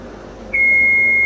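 A single steady electronic beep from a Beneteau Oceanis 45 sailboat's engine panel alarm starts after a brief quiet moment and holds a constant high tone, loud and close, over faint background hum.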